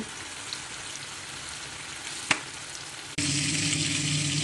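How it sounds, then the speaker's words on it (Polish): Meat for goulash sizzles steadily in a hot pan, with a sharp click midway, then the frying grows suddenly louder and fuller. "O, zobacz, jak się fajnie smaży tutaj"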